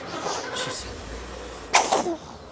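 Outdoors on a sunny day, a baby lets out a sharp, close sneeze, preceded by soft background murmur and a faint breathy sound.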